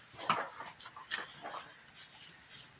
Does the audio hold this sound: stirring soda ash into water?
no